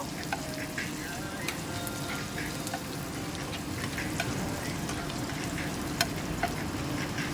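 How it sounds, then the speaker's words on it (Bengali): Oil sizzles steadily in a pan as chopped garlic and ginger fry, with small pops and crackles scattered through the continuous hiss. "এটাকে আমি একটু ভালো করে ভাজা ভাজা করে নেব"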